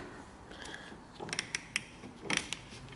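An oil filter is twisted loose by hand on a drift car during an oil change, giving a few short scraping, ratcheting creaks in quick, uneven bursts, close and fairly quiet.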